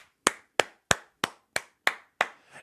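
Seven sharp single hand claps in a slow, even rhythm, each crisp and close, with silence between them and no voices.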